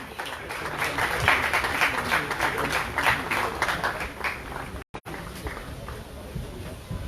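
Applause fills a firefighters' congress hall in Martinique as a territorial councillor presents a silver medal, sustained crowd clapping with scattered footsteps, briefly cut by a gap of silence before resuming at slightly lower level.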